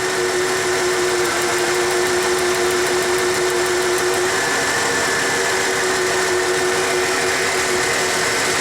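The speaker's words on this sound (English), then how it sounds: "It's not a complete misfire, it's a partial misfire." A 1994 Ford F150 engine idles with a partial misfire, giving a continuous close-up mechanical drone with a faint uneven pulse. There is no talking.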